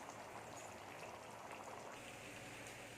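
Thick masala sauce for masala kozhukattai bubbles and sputters steadily in a pan, a continuous close simmering noise with no talking.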